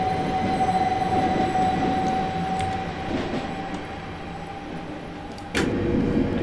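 A simulated train in Train Simulator 2020, on a London route from Kensal Green Junction toward Willesden, rumbles along steadily with a sustained tonal whine and wheel noise, followed near the end by a sudden louder burst like a door or brake release.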